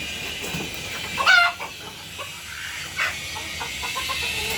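A few faint clucks from a caged rooster and hens sound against a steady background hum, with one slightly louder squawk near the start.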